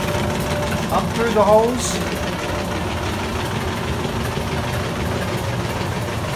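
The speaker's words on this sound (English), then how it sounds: "Wax goes to the top, and then the honey runs into the honey pump." An electric pump moving honey through a hose during extraction on a bee farm hums and knocks steadily at a constant mechanical drone, with a person talking briefly over it near the start.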